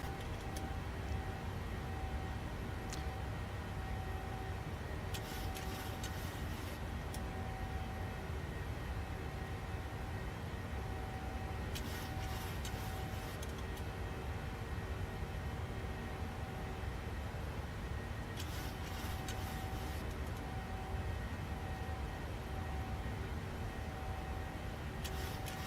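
Steady, loud roar of PMDG 737 jet engines at climb thrust in a flight simulator game, a broad continuous hum with tonal whine layered on top and brief bursts of high hiss recurring every few seconds.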